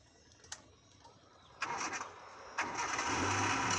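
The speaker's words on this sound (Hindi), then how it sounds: "क्लच दबा के इंजन ऑन करो।" A car engine is cranked and fires up with the clutch pressed, two broadband bursts of starting noise followed by a steady idle rumble, close and fairly quiet.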